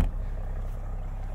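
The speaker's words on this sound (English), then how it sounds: "Exhaust sounds great" A 2023 Toyota GR Supra 3.0 with a manual gearbox rumbles through its exhaust, a deep, steady engine drone heard from inside the cabin, fairly loud and even with no talking.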